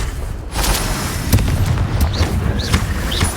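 Confringo fire spells blast in combat in the Hogwarts Legacy video game, several loud booming explosions in quick succession with sharp cracks and whooshing impacts.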